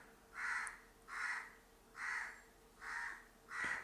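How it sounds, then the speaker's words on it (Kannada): A crow caws five times in an even, unhurried rhythm, each call clear but moderately distant against a quiet background. "ಕಾಗೆ ಇವಾಗಲೇ ಹೋಗ್ಬೇಕಾ."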